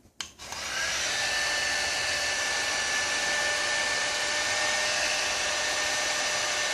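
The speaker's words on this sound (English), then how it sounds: "So what I'll do is I'll use my heat gun." A handheld heat gun blows hot air in a steady, continuous whine and rush after a brief click and start-up, loud and close, holding an even pitch with no talking over it.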